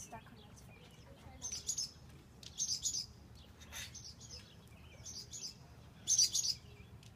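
Short bursts of high, thin baby bird chirps repeat in clusters over a few seconds, fairly close, with a person talking briefly during the rescue.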